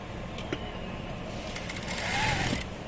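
A sewing machine runs a line of top stitching on a nightdress alteration, a quiet, steady mechanical whir with small ticks that swells slightly near the end, heard alone.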